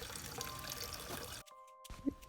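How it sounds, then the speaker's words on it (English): Water trickles softly from a solar-powered garden wishing well fountain, a faint steady pour that cuts out briefly before resuming. "this wishing well, which is solar powered, and we really enjoy sitting here reading a book and listening to the soothing water"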